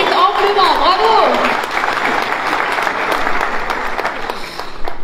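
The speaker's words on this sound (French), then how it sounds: "On les applaudit haut et fort" Audience at a conference applauding committee members who have stood up, loud sustained clapping throughout, with a voice calling out over the start and a crowd murmur beneath.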